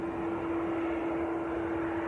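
A Turkish airliner taxiing at Manchester Airport gives off a steady, droning engine whine with a constant tone, heard from a distance without a break.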